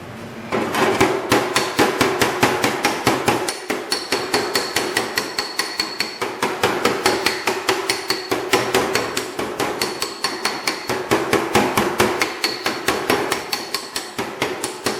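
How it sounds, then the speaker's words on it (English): Steady, rapid hammer blows strike the sheet metal of a 1936 Line Bros pedal car held against a dolly. The sharp ringing hits keep an even rhythm and sound loud and close throughout. "What I'm doing is moving the dolly around the outside edges and hammering down on the inside here."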